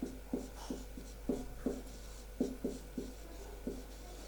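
Pen or marker writing on a board during a reasoning lesson for an exam, a steady series of about a dozen short scratchy strokes in an irregular rhythm, close and fairly quiet, with no talking.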